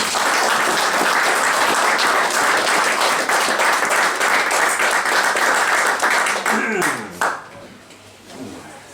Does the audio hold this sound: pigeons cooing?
no